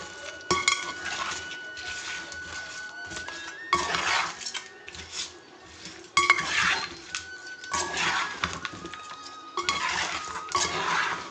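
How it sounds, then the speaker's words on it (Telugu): Fish roe fry ingredients and oil being mixed in a metal bowl, with repeated clinking and scraping of a utensil against the bowl in uneven bursts and short pauses. "మనం ఆయిల్ కూడా వేసుకున్నాక ఒకసారి ఇదంతా కలబెట్టుకోవాలి"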